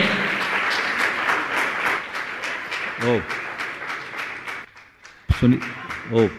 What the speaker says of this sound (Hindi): और मैं चाहूंगा ऐसे व्यक्तित्व के लिए जोरदार ताली बजाकर इनका सम्मान करें।